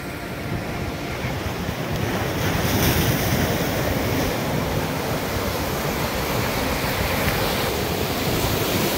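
Strong sea waves surge and roar without pause at Digha Mohona, a loud, dense wash of surf with heavy wind buffeting the microphone throughout and no voices.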